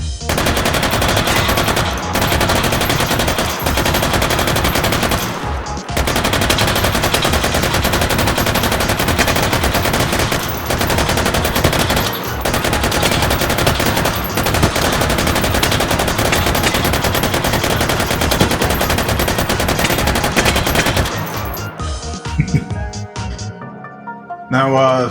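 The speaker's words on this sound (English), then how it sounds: "shoot some virtual bullets" An M249 SAW light machine gun fires in virtual reality in H3VR, long loud sustained bursts of rapid gunfire with only brief pauses, ending in scattered clanks and rattles.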